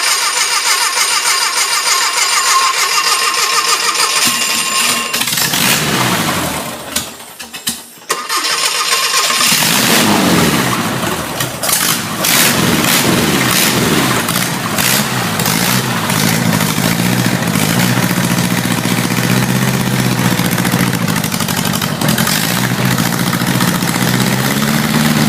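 A Porsche Type IV VW four-cylinder engine on a bench, cold with no choke, cranking after a steady fuel pump whine, then catching and running loud and close at a rough, steady idle.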